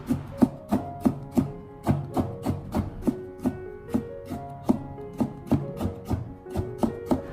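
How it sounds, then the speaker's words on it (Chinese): A knife cutting a cucumber into shreds on a board, sharp regular chops about two per second, close and clear with nothing else around them. "接着我们再将它改刀切成青瓜丝"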